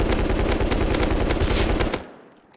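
A custom gun in the video game Rust fires a rapid automatic burst of loud, punchy shots for about two seconds, then the sound cuts off and decays into a short reverberant tail.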